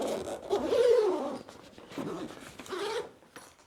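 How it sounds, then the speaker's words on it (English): Large zipper on the carry bag of a Pakayak Bluefin 142 folding kayak being pulled open in long rasping strokes, close up, with no talk. "we've got a couple of big zips"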